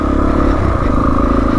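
A Suzuki DRZ400E dirt bike chugs steadily uphill in first gear on a green lane, its single-cylinder engine giving a close, continuous low rumble with even throbbing pulses.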